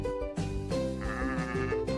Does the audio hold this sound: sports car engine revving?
no